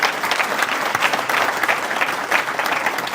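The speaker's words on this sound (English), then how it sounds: "so let's give her another round of applause." Dense, steady applause from an audience at an evening Hall of Fame awards event, honoring the woman who organized it, sustained and fairly loud throughout with no voices over it.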